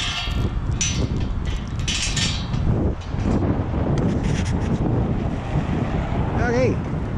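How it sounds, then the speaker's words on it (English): Strong wind roars outdoors, buffeting the microphone with a constant heavy rumble and gusty rushes, while a voice is faintly audible underneath. "That's windy out there."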